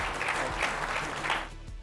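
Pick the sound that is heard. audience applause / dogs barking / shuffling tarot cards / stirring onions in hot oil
audience applause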